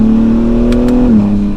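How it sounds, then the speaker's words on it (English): A sports car with an aftermarket exhaust holds a steady, throaty idle-to-rev drone close by, dipping slightly in pitch near the end, with a couple of brief higher bursts. "Now this one does have an aftermarket exhaust"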